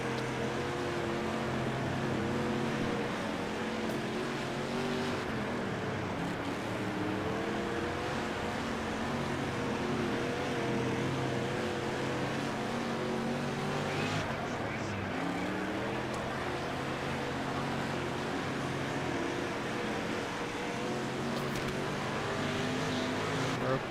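Sprint race cars roar around Grant Park Speedway in the World of Outlaws video game, a continuous loud engine drone with rising and falling pitch as the cars accelerate, with speech in the background throughout.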